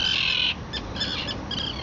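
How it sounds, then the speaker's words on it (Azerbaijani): Seagull chicks at a nest beside Lokbatan lake give high, thin chirping calls, one long cry followed by several shorter bursts, close by with steady outdoor noise underneath. "Bu qağayı balalardır."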